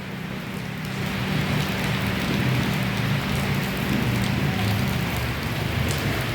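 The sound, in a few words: rain falling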